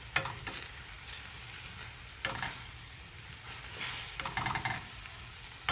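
Sliced zucchini sizzles in a hot pan for vegan teriyaki vegetables, a quiet steady frying crackle broken by a few louder bursts of stirring and scraping.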